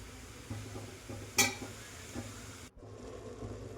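Grated carrot being sautéed and stirred in ghee for carrot halwa, a low sizzle broken by light scrapes and one sharp clink of a spoon against the pan, then a brief dropout before the soft frying resumes.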